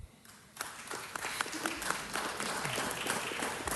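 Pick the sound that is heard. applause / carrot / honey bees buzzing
applause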